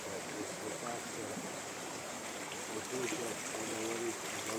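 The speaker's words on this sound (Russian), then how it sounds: "Родники, горная речка, холодная." A cold mountain river in a forest flows steadily nearby, a soft continuous rushing and gurgling wash that holds an even level, with no voices over it.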